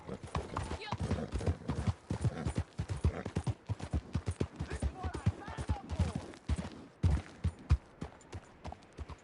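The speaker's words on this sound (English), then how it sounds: "So here's my second horse." Horse hooves gallop in rapid, steady clip-clop rhythm through Red Dead Redemption 2, loud and close, with occasional whinnies mixed in and a voice talking over much of the run.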